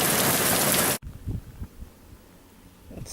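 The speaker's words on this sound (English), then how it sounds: "It's like an August rain" Heavy rain pouring down in a dense hiss for about a second, then cut off abruptly, leaving faint low thumps and quiet background.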